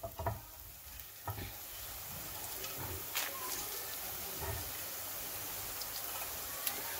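Boondi drops fry in oil over a low flame, giving a faint, steady sizzle with a few soft clinks and stirring taps near the start and scattered through.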